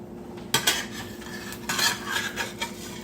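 Toast flipped in a hot pan: a few close scrapes and clinks of a utensil against the pan over a faint sizzle, with no talk.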